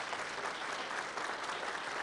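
An audience applauds Dr. Diehl with steady, even clapping that fills the whole moment at a fairly quiet level, without talk.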